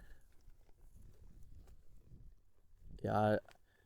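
Soft rhythmic clip-clop of hooves on the ground, a horse walking at an unhurried pace, ending in a brief loud whinny-like burst.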